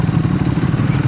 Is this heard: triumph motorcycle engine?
yes